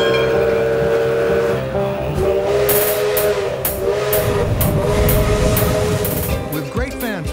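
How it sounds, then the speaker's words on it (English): A century-old steam locomotive pulls up to a station platform in Ecuador, giving off a loud, steady mechanical rumble with regular bursts of hiss or chuff partway through and a louder clatter near the end. "a century-old steam locomotive pulled up to the platform"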